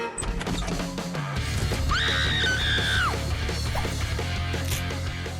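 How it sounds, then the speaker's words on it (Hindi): A person lets out a sharp, rising scream that holds for about a second and then drops away, sounding close and loud over busy background clatter and crashing noises. "तुम चिल्ला क्यों रही हो?"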